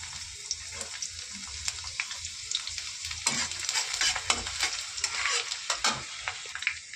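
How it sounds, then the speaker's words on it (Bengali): Chopped garlic added to hot oil for tadka, a bright crackling sizzle with sharp pops and stirring scrapes, close and continuous throughout. "আবার তেল দিয়ে দিয়েছি। দেখো এতে দিয়ে দিচ্ছি রসুন কুচি"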